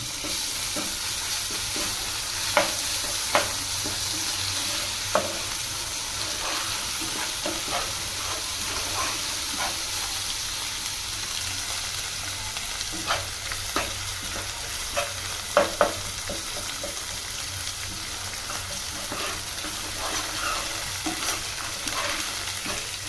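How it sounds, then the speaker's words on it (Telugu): Ginger garlic paste fries in a pan, a steady sizzle broken by scraping clicks and taps as a utensil stirs it, close up with no talking. "జింజర్ గార్లిక్ పేస్ట్ అయితే వేసుకుందాం సో మంచిగా ఒకసారి అయితే కలపెట్టుకుందాం"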